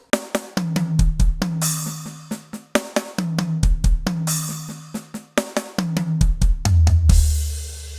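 Rapid 32nd-note drum strokes roll across toms of descending pitch in repeated fills on a drum kit, crisp and close, with cymbal crashes punctuating each phrase and no voices.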